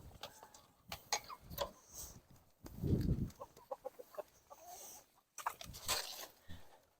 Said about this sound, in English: the chickens all walk up real good